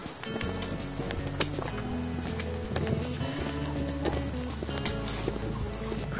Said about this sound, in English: Crowded with cows.